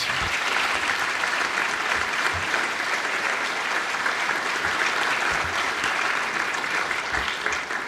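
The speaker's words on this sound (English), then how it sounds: "If we could, let's give these young people another round of applause." An audience at a senior salute event applauds young people in a steady, sustained wash of clapping at moderate distance, continuing evenly throughout without speech.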